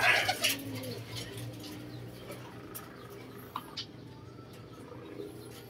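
Pigeons coo softly in a loft, with faint low murmuring calls and a few sharper sounds over a steady background.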